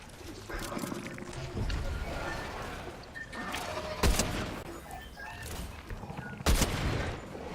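Sniper rifle gunfire in a video game, two sharp loud shots standing out over a busy, cluttered game soundscape with shuffling movement and a voice talking.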